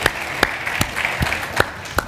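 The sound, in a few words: audience applause at a conference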